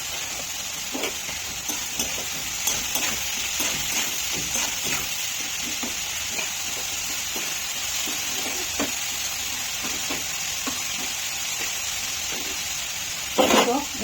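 Sliced bitter gourd and potato fry with turmeric in a home kitchen pan, giving a continuous close sizzle with light stirring scrapes and a short louder clatter near the end.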